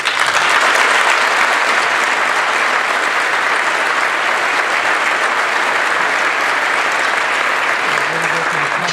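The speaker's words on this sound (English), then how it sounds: "if we could give them a round of applause" Audience members at a sports awards dinner applaud a team, loud, dense clapping that fills the room continuously for several seconds.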